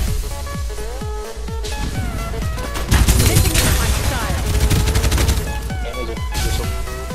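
Rapid bursts of gunfire in the battle royale game Farlight 84, loud and close, with dense overlapping shots intensifying midway amid game effects and background music.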